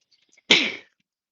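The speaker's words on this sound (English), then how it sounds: "I got to sneeze again" A single sharp sneeze from an elderly man bursts out loud and close after near silence, then fades quickly.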